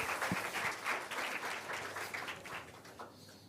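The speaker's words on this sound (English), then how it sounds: "Let's have a huge round of applause for them." Applause from an audience at an International Women's Day 2024 community event, a dense, steady burst of many hands clapping that carries on for a few seconds before starting to thin out.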